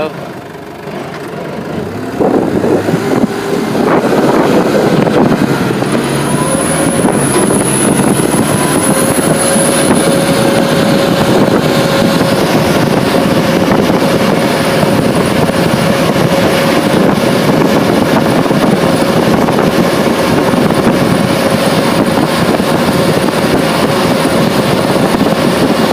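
A Wallace diesel truck drives on a mechanics' test drive, its engine and transmission producing a steady, loud drone with a rough low rumble that builds after a quieter start and holds for the rest of the stretch.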